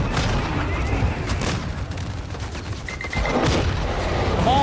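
Anti-aircraft gun fire in the video game Call of Duty DMZ, a dense continuous barrage of booming shots with crackling bursts, loud and steady throughout with a brief tonal beep partway.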